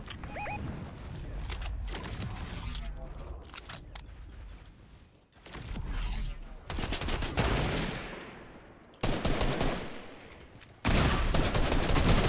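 Fortnite gunfire crackles in rapid bursts and sharp single shots, loud and close, with brief gaps between volleys and mechanical clicks mixed in during a trio-versus-squad match.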